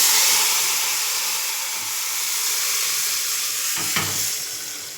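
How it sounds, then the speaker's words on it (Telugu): Loud, steady sizzling and hissing as hot tempering hits lentils, continuing throughout with a brief sharper burst near the end; no voices. "స్టవ్ ఆపకుండా తాలింపు వేగంగానే ఇట్లా పోయండి"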